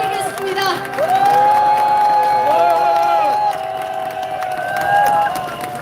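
At a Democratic Party campaign launch rally in Incheon, a large crowd cheers and shouts continuously. Sustained loud whoops and voices fill the space, with a faint clapping texture underneath.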